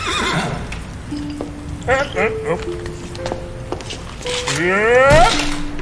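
A horse whinnies loudly several times, the calls rising and falling, with someone talking warmly over and between the neighs.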